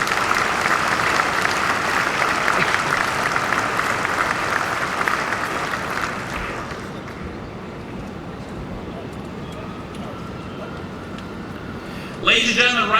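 Audience applause at a police medal and awards ceremony at 1 Police Plaza, a broad steady clapping that gradually fades after about six seconds, with a brief renewed burst near the end.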